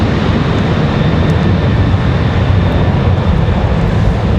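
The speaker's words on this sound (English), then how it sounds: "Sounds like we got a Southwest on the move back there." A Southwest airliner moving on the ground at Raleigh-Durham airport, a loud, continuous low rumble and engine roar that stays steady, with no speech.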